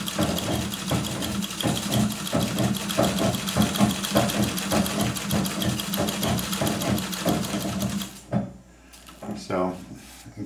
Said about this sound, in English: I've still got this in my treadle, so that's the thump thump thump sound you hear.